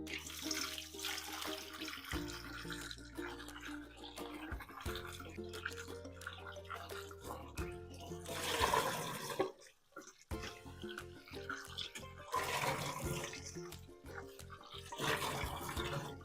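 Raw, firm green mango pieces washed under running tap water, an uneven splashing flow close by with a brief break midway, over soft background music.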